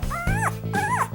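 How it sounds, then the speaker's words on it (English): Newborn puppies, eyes not yet open, whimper in two rising, wavering high cries, close and clear with no talk. "Gotta love these little puppies. Their eyes aren't open yet."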